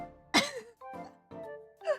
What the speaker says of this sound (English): I can't record it until this cough disappears